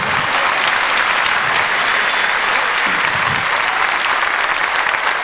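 Audience at a live comedy stand-up show claps steadily in a loud, sustained wave of applause that carries on without pause.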